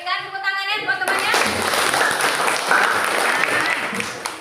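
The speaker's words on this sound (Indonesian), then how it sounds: "Berikan tepuk tangannya buat temannya." A classroom of students applauds a student group, dense clapping rising abruptly after a brief voice at the start and holding steady and fairly loud to the end.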